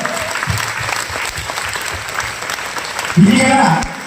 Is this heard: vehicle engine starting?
no